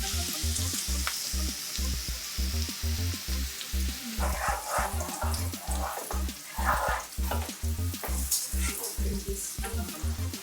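Garlic frying in oil and butter for Jamaican-style baked chicken: a steady close sizzle with a rhythmic low thumping pulse beneath it throughout.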